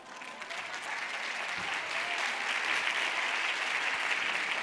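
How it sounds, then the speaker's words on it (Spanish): An audience claps in sustained applause that swells slightly and holds steady, a dense patter of many hands in an indoor hall, with no voices standing out. "Otro fuerte aplauso, por favor"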